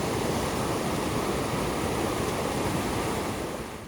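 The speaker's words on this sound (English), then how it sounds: "we have a river crossing that was bigger than the big, fast-flowing creek that I just crossed" Fast-flowing creek water rushing at a trail crossing on the Pacific Crest Trail near Pinchot Pass, a steady loud roar and hiss that continues without pause, with no voices.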